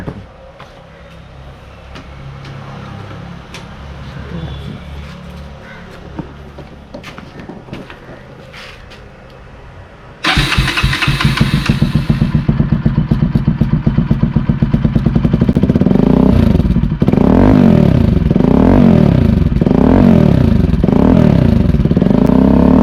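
A 250 motorcycle engine with the dB killer removed and a free-flow exhaust, heard first as a quieter rumble, then suddenly loud and close, revving hard in repeated rising and falling blips.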